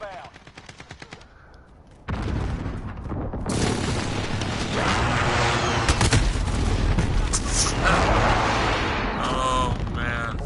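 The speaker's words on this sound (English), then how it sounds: "Friendly precision airstrike inbound." Heavy explosions and rapid gunfire from a precision airstrike in Call of Duty Modern Warfare, loud and dense, rumbling continuously for several seconds after a brief quieter opening.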